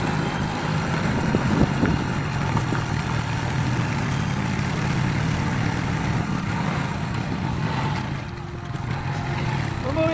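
A motor tricycle engine runs continuously in Bolinao, Pangasinan, a steady mid-level rumbling drone with voices talking over it.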